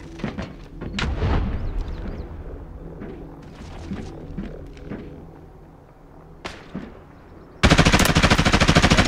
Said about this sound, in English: Hear my nade, it's about to go off.